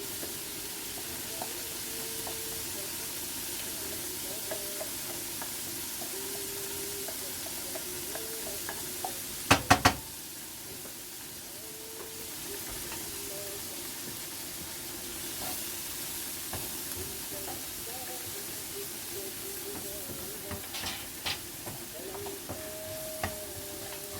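Onion fries in oil or butter in a pan for a chicken and mushroom dish with white sauce, giving a steady soft sizzle and hiss, with occasional clinks and scraping from stirring.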